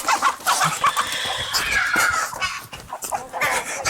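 Chickens cluck and squawk in quick, agitated bursts nearby, with scuffling movement around them.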